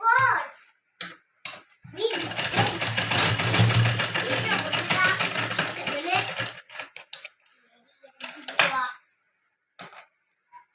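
A sewing machine stitches a chain trim onto the side of a blouse, running in a steady, fast, continuous burst for about four seconds, with brief clicks and handling noises before and after.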